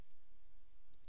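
A computer mouse clicking to select chunks, with one soft click at the start and a quick pair of faint clicks at the end over a quiet background hiss.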